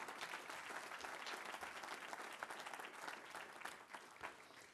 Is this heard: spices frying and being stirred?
no